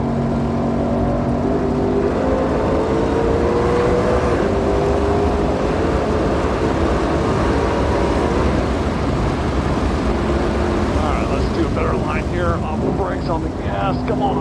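A Shelby GT500 pulls hard around Ozarks International Raceway, its engine note droning steadily and rising in pitch under acceleration, with wind and road roar filling the cabin throughout; an instructor speaks over the noise.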